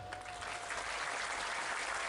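Audience at a large outdoor religious gathering breaks into dense, continuous applause, steady and fairly distant, with no pauses.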